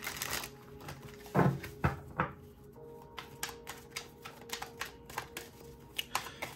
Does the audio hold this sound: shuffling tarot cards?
yes